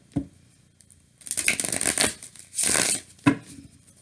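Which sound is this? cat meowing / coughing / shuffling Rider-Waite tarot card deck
shuffling Rider-Waite tarot card deck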